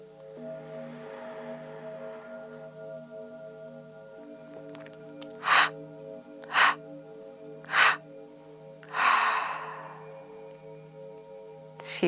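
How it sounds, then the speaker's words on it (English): Strong breaths forced out through the mouth during a restorative yoga breathing exercise, about four sharp exhalations in a row followed by a longer, softer breath out, close and clear over a low steady hum. "You can hear the sound of the exhalation."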